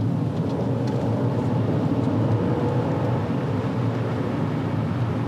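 A 2020 Rolls-Royce Cullinan accelerates on the road, giving a steady, muted broadband roar of engine and road noise heard from inside the cabin, with no voices.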